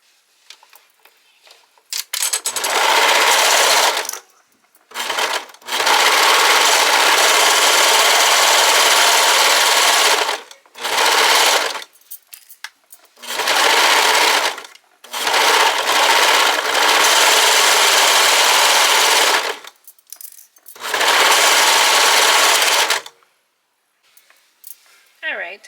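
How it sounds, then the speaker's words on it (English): A serger overlock machine sews a hem in loud, close bursts of rapid mechanical chatter, starting and stopping several times with short silent gaps between runs. "we're going to serge it and be done with the top"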